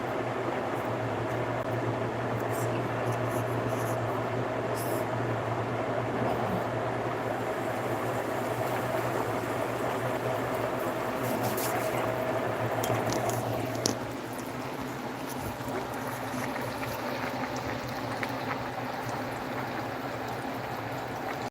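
Battered catfish sizzles steadily in a pan on the stove, a continuous frying hiss that stays level throughout with no talking.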